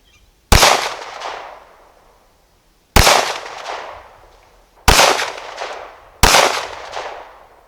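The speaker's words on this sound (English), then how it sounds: "We're going to be taking a few shots at it just to check out the accuracy." Four loud, sharp Glock 17 Gen 4 pistol shots fired at a target on a range, spaced irregularly a couple of seconds apart, each crack followed by a decaying echo, with no talk.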